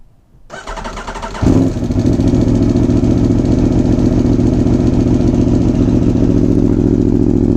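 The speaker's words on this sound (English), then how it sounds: "Now let's go ride. Tuono RR, let's go." A 2017 Aprilia Tuono V4 1100 RR motorcycle engine starts up after a brief quiet moment, then roars loud and steady during a road ride, with no talking.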